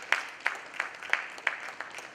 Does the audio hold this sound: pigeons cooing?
no